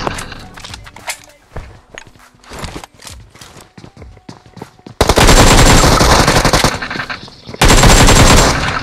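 Rapid automatic gunfire and single shots from a PUBG Mobile match, scattered bursts at first and then dense, loud sustained volleys that fill the second half.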